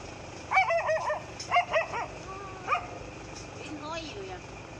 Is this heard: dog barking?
yes